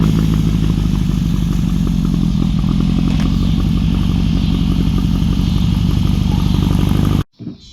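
A 1969 hot rod Baja Bug's four-cylinder engine runs loud and steady at close range, a continuous throbbing idle that stops abruptly near the end.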